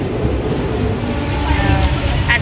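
Inside a crowded moving train, a steady low rumble and rattle of the carriage runs throughout, with a murmur of passengers underneath.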